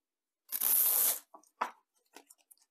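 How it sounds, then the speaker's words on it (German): Adhesive tape is ripped sharply off a roll in a woodworking shop, one loud tearing pull followed by softer crinkling and handling sounds up close. "Klebeband."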